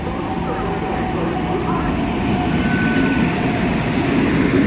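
The 12302 Howrah–New Delhi Rajdhani Express rushes past on the chord line, a loud continuous roar and rattle of passing coaches heard from aboard a moving local train, steady throughout.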